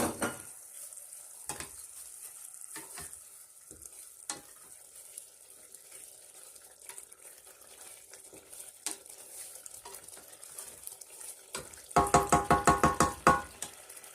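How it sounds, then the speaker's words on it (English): Food fries in a cooking pot during egusi preparation, with a soft continuous sizzle and occasional light knocks, then a burst of rhythmic scraping and clattering as it is stirred near the end. "So now you can stir."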